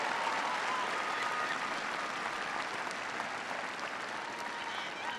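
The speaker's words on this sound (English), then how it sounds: "Give her a big round of applause." Crowd at a political speech in Omaha applauding, a steady wash of clapping heard at a distance, even and continuous with no talk over it.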